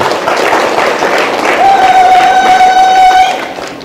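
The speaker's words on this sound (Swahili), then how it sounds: "Mbona hamna makofi kidogo hapa?" An audience applauds at a speech event, with dense, steady clapping that fills the whole stretch, and a sustained whistle-like tone rises over it partway through before the clapping tapers slightly at the end.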